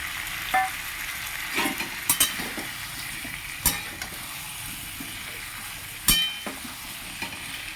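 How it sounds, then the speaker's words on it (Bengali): Drumstick vegetable pieces stir-fried with spices in a pan hiss in a steady sizzle, with a handful of loud utensil scrapes and clatters against the pan at irregular moments. "মশলার সঙ্গে ভালো করে কষে নেব"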